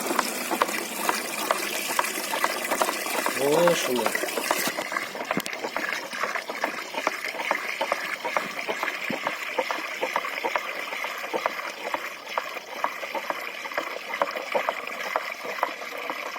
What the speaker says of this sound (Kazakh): Анан чуурултуп құябыз, мұны аралаштырып тұрабыз.